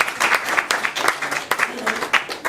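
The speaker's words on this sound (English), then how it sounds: "maybe we just give a little round of applause for her" Audience applause after a performance, lively clapping from a small crowd with voices talking over it throughout.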